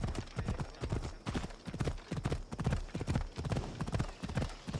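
Horse hooves clop and gallop in Assassin's Creed Odyssey, a fast, steady run of close, loud hoofbeats throughout with no talk.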